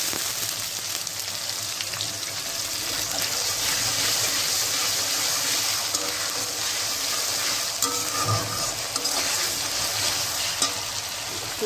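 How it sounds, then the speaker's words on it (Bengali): A masala of green chili, onion and cumin paste fries in a pan, giving a steady broad sizzle that lasts throughout. A brief stirring clunk comes through near the end, and no one speaks. "এখানে কাঁচামরিচ এবং পেঁয়াজ আর জিরা বাটা দিয়ে আমি মশলাটা কষিয়ে নেব।"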